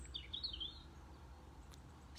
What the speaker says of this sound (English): And just hearing the sound of the birds here.